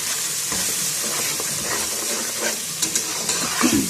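A spoon stirring salt, chili and turmeric into pea pulao in a hot pan, giving a steady bright sizzle and frying hiss with a few soft scrapes and clinks near the end.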